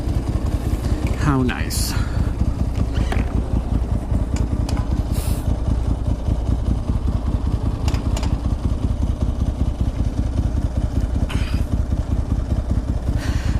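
A Ducati Monster S2R 1000 motorcycle fitted with a touring gel seat rides along, its engine droning steadily under constant wind rush, with a rider briefly speaking.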